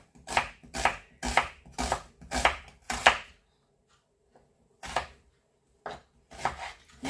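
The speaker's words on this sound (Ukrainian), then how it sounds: "Нарізаємо цибулю на засмажку." A knife chops onion on a cutting board while borscht is being made: six quick, evenly spaced chops, a short pause, then a few more scattered cuts, all close and crisp.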